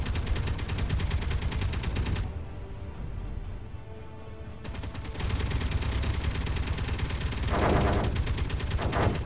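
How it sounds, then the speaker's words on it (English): Gatling gun turrets firing in Space Engineers, a loud, continuous rapid-fire rattle that cuts out for about two seconds and then resumes just as dense, with no talk over it. "Eat my Gatling guns."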